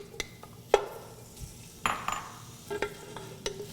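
Bacon cooking down in a couple tablespoons of olive oil in a pot, with a soft frying sizzle under intermittent stirring clinks and scrapes of a utensil against the pot.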